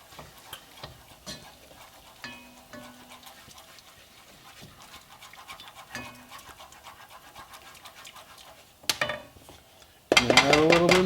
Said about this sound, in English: And I'm going to give this a little stir.